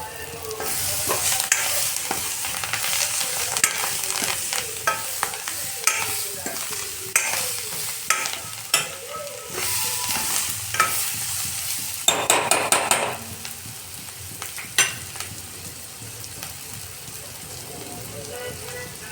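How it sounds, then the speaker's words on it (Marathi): Coriander and vegetables sizzle in a hot pan for a Vidarbha-style village dal dish, with a spoon stirring and scraping in irregular bursts over a steady close frying hiss. "हे 1 मिनटं छान असं परतून घेऊ आणि ह्याच्यात आपण थोडीशी कोथिंबीर घालणार आहोत"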